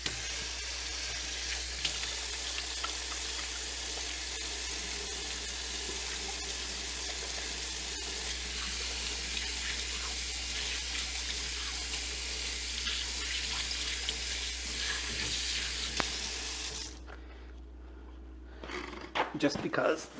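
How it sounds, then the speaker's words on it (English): Water runs steadily from a tap for about seventeen seconds while hands are washed in a kitchen, then it stops and a few handling sounds follow. "Gonna give my hands a wash."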